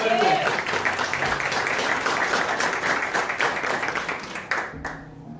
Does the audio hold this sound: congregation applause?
yes